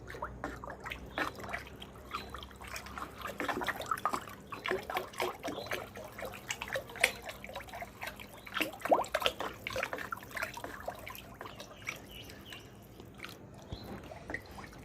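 Neem oil being mixed into water in a container, with continuous soft sloshing, trickling and splashing close by and fairly quiet throughout.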